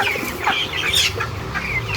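Young broiler chickens on a farm during extreme heat cluck and cheep softly in a continuous overlapping flock chatter, with no voices present.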